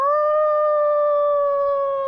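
A puppy howls in one long, steady, high tone that holds for about two seconds, close and clear, with no talk.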